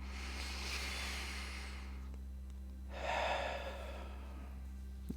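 During meditation, a slow, deep breath is drawn in and then let out audibly over a steady low hum, with no talking.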